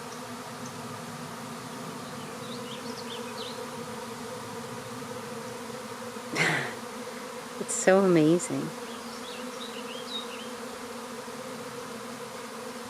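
A swarm of honeybees in May drones in a steady, continuous hum throughout, with a brief louder burst midway and a person speaking a few words near the end.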